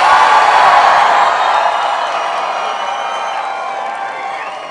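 Crowd at a Mitt Romney Nevada caucus victory speech cheering loudly, a broad roar of voices and whoops that starts strong and slowly fades over a few seconds.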